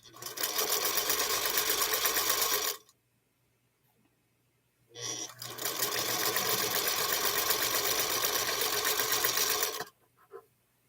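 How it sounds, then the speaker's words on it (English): A sewing machine stitches fabric in two long, steady runs, loud and close, separated by a few seconds of quiet, with a brief start at the end; no one speaks. "Might as well just sew these up."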